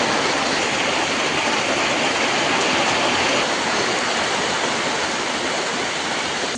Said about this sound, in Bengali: নারকেলটা ধুয়ে নেব পরিষ্কার করে